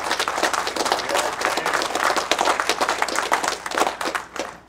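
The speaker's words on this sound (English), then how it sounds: "I want to give him a big round of applause." A room of people gives a sustained round of applause for a retired assistant chief at a hazmat truck transfer event, dense clapping that holds steady for several seconds before tapering off at the end.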